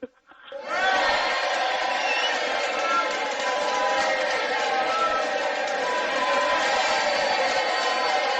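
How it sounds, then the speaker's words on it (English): A studio audience on a gay talk radio show bursts into sustained clapping and cheering for student writer Caitlin O'Connor, rising quickly after a brief quiet start and staying loud and steady throughout. "I think we should give her the claps on"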